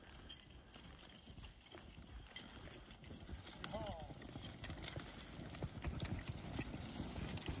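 Percheron draft horses clip-clop through snowy Vermont hardwood forest while logging, hooves thudding irregularly and softly amid crunching, dragging noise, with a voice talking over the scene.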